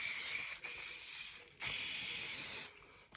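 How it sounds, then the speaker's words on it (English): Hairspray from an aerosol can hisses in two long, close bursts with a short pause between them, loud and steady, and no voices are heard. "Pop a little bit of hairspray on."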